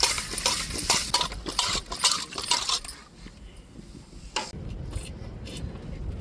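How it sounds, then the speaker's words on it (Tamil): Fish being rubbed with coarse rock salt and rinsed by hand in a kitchen, giving gritty scraping and clinking close by, then splashy washing with a quieter gap before the water noise resumes. "இப்போ மீனை நல்லா உப்புக்கல் போட்டு உரைச்சி கழுவி எடுத்துக்கிடுவோம்."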